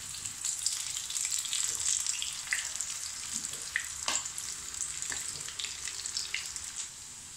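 Bhopali shami kababs frying in hot oil, a bright continuous sizzle with scattered soft pops and taps of a utensil, fairly quiet and without speech.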